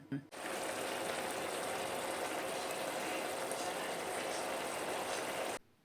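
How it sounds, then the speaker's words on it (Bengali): Onion- and garlic-free matar paneer gravy simmers in a pan with a soft, continuous bubbling hiss, fairly quiet and steady, beginning and ending abruptly. "তো যাই হোক, এবারে এটাকে ফুটতে দেব।"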